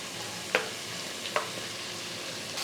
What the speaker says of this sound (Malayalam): ഇനി ഇതെല്ലാം കൂടെ ഒന്ന് വഴറ്റി കൊടുക്കാം.